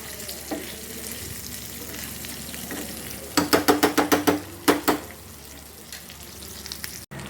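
Fish pieces frying in a pan for a home fish fry, a steady soft sizzle underneath, with a quick series of sharp clinks midway that sound like utensils on cookware.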